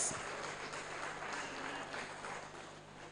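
A conference hall audience at a regional delegates' meeting claps their hands in a dense, continuous patter that stays fairly even and fades slightly at the end.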